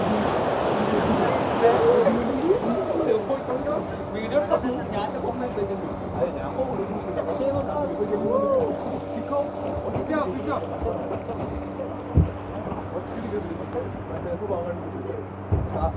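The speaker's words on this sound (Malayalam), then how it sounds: "ഏതായാലും നമ്മളെ ബോട്ട് പോവാനൊരുങ്ങി" Engine rumble of a passenger service boat setting off from Kozhikode beach, a steady low drone with water and wind noise throughout, heard close with people talking over it.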